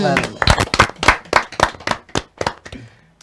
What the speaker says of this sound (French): Oh là là, ça s'applaudit.